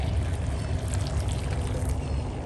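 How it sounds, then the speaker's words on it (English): Water bubbling and boiling over a diesel particulate filter being degreased, a steady close hiss with continuous liquid churning and no talk. "It's boiling, it's pulling the grease right off the screen that's on the top of your filter."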